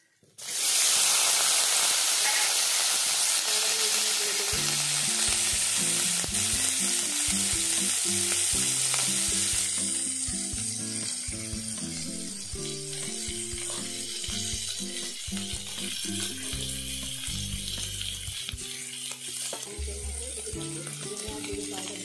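Ginger and boiled potatoes frying for a mini samosa filling: a loud, steady sizzle that starts abruptly and holds, overlaid with close scraping and clacking of a spoon stirring in the pan.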